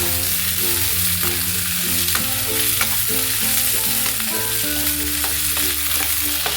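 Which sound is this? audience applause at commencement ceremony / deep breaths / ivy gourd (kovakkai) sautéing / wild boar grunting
ivy gourd (kovakkai) sautéing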